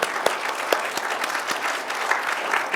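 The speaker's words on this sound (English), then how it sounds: "I just really want to give a huge round of applause to the current board members as well as the new board members stepping in" An audience claps steadily at an annual general meeting, a dense, even patter of many hands with no voices standing out.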